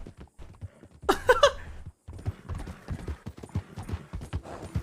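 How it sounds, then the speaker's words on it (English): Horse hooves in the Wild RP video game clip-clop in a steady, close rhythm throughout while a horse is ridden, with a brief louder burst early on. "The camera switch is awful for riding a horse."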